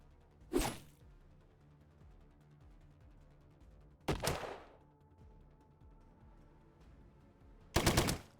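Gunfire in the turn-based video game Colony Ship comes as three separate sharp bursts spaced a few seconds apart, each one loud and short against a quiet background.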